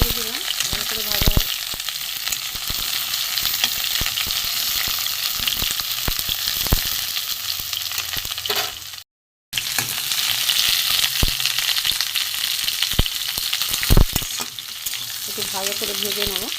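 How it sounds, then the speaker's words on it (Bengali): Pieces of pointed gourd (potol) crackle and hiss as they are stirred and fried in a pan, a constant sizzle punctuated by occasional spoon knocks and a short silent break, with brief speech at the edges. "একটু নেড়ে চেড়ে দিলাম, ভালো করে ভাজা।"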